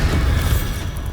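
A Bombarda spell explosion in Hogwarts Legacy lands as a loud, close, rumbling boom that fills the whole moment, with no voices.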